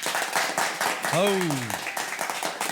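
An audience claps and applauds steadily throughout, a dense crowd of hands at close to moderate distance, while a single voice exclaims briefly partway through.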